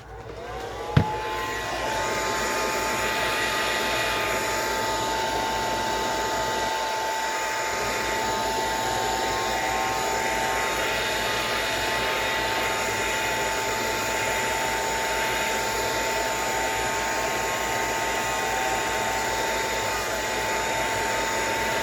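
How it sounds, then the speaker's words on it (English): A blow dryer runs steadily and loudly, drying a page made from a dollar-store placemat insert, after a sharp click as it switches on; a constant whirring drone continues unbroken. "I don't even think I have my blow dryer plugged in."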